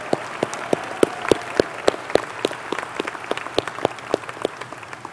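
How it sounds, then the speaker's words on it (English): Graduation ceremony audience applauds the Wildcat Band, crisp close claps popping out over a thick, rain-like rattle of many hands, loud and steady for about five seconds. "So let's give them a round of applause."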